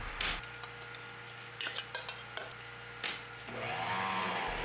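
Fruit mixture being mixed into cake batter in a bowl, a few clinking scrapes of a utensil against the bowl, then a rising motor whir of an electric mixer, close and fairly loud.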